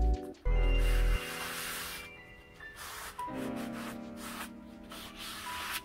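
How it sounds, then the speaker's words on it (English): A cloth or pad scrubs hard over a dirty, oily, rusty cast machine table from a workshop bandsaw or planer thicknesser, giving loud, continuous rough rubbing strokes after a brief heavy thump at the start. "After a few minutes of scrubbing, I give the table a wipe down"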